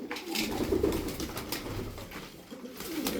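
Tumbler pigeons coo in a steady low murmur of overlapping calls, close by and continuous, with occasional brighter chirps and light rustling throughout.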